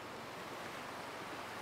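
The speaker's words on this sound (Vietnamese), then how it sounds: "đang Hùng đang đứng cạnh một con suối, nó có tiếng nước nó kêu rất là to" A forest stream rushes loudly in a steady, dense roar of flowing water that fills the whole moment, unbroken and with no speech.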